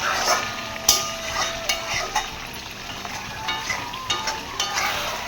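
Chicken stir-fried for kosha sizzles in a pan while a spatula scrapes and clinks against the metal at a steady, irregular pace. The frying is close, and no one speaks.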